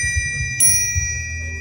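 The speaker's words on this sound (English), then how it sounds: "these were bike bells that I put custom brass phone bells on" A bicycle bell fitted with a custom brass telephone bell gives one bright, sharp ding that rings on with a clear metallic sustain over a low background hum.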